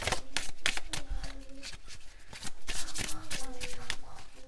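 A deck of cards is shuffled for a card reading, with quick riffling bursts and flicks that come in repeated clusters, up close, while a voice speaks softly underneath.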